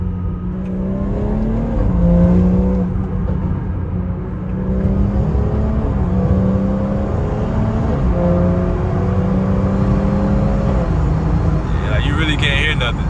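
A loud, close BMW 340i engine with an aftermarket downpipe revs hard and climbs in pitch through several gear shifts, its exhaust droning aggressively throughout.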